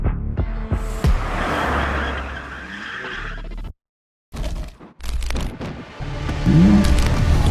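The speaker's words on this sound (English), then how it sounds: "Now he's getting on the throttle and inducing a proper slide." BMW M2 drifting on a track, with loud sustained tire squeal and engine roar as it slides under throttle, a brief silent cut, then more skidding and revving.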